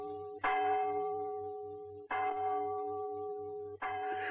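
Church bells ring out in three evenly spaced, loud strikes, each leaving a long humming tone that slowly fades before the next, with a faint pulsing drone running beneath.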